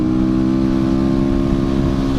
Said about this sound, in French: t'entends quand même que le moteur il aime pas ça